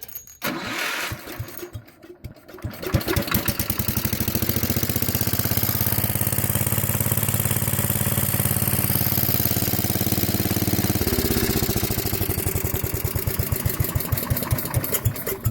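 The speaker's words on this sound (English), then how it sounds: "Sounds like a Gravely. There you have it. 1968 Gravely." A 1968 Gravely Commercial 10A tractor engine catches after a couple of seconds of cranking, then settles into a loud, steady close-up idle with a faint rhythmic chug, holding on alone to the end.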